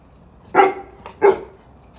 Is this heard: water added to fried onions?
no